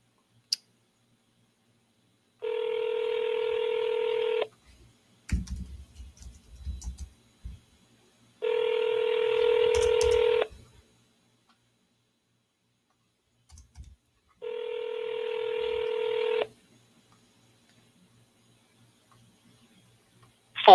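Three steady dual-tone telephone dialing tones, each held about two seconds with gaps between them, clear and close, with a few soft handling clicks in the pauses and no talk.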